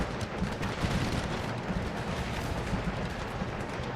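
Dense, continuous crackle of infantry musket volleys on an Empire Total War battlefield, a steady loud roar of massed firing with no distinct single shots.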